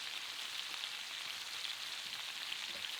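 Sliced chestnut mushrooms fry in a pan with a steady, even sizzle that holds from start to finish, close and moderately loud, with no voices over it.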